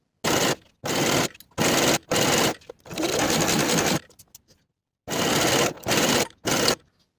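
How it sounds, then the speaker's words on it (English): Sewing machine stitching the center back seam of a quilted jacket in quick close bursts, several short runs and one longer steady run separated by pauses. "Sew the center back seam from top to bottom with a 5/8 inch seam allowance"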